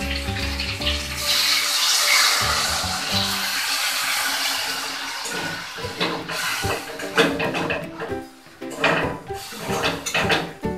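Water poured into a pan of nearly dry, reddish chicken curry gravy, a loud continuous gushing splash at the start that settles into bubbling and clattering pan sounds.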